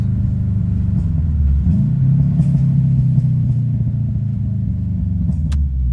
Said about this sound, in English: We get you another one more downshift.